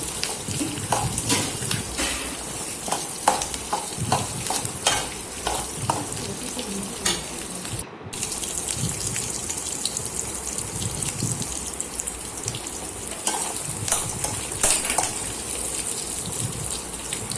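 Red chilies and grated coconut sauté in a pan for kuzhi paniyaram, a steady close sizzle broken by repeated stirring scrapes and clicks, running unbroken for many seconds without talk.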